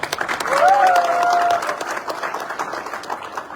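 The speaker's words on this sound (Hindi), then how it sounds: "बहुत सारे लोग यहाँ पर खड़े हैं, तालियां बजा रहे हैं" A crowd of people stands and claps at a car showroom handover of a new Audi A4. The applause is steady and fairly close, and talk runs over it.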